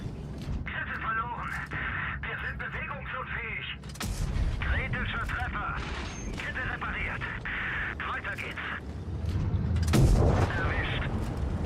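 Tank cannon shots in the mobile game World of Tanks Blitz, with sharp booms near 4 and 10 seconds over a steady engine rumble and game effects, while a player talks throughout.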